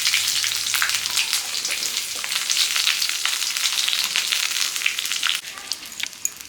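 Whole chilies, bay leaves and panch phoron frying in hot oil in a home kitchen for a Chaitra Sankranti dish, a loud, close, continuous sizzle with crackles and a few sharper pops near the end.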